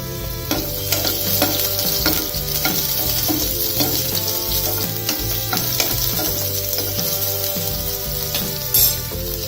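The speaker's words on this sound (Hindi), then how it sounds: "अब इसमें हम ऑनियन डालेंगे।" Chopped onions sizzle steadily in two teaspoons of hot oil for homemade pizza sauce, with close scraping and stirring sounds throughout and light background music running underneath; no one speaks.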